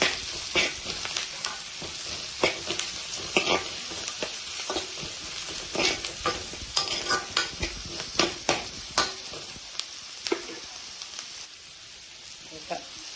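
A spoon stirs ridge gourd and pea curry with turmeric in a hot pan, with a steady sizzle under repeated scraping and clinking strokes, close up and without talk.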